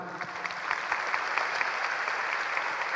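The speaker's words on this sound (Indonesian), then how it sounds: "Ya, tepuk tangan" A crowd of university students applauds in a steady, dense patter of many hands clapping together, moderately distant and even in level throughout, with no voices standing out.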